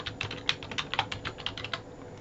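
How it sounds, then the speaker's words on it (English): Quick, irregular clicks of typing on a computer keyboard as a name is entered, close and fairly quiet, with no talk. "so I'm just going to go ahead and type my name."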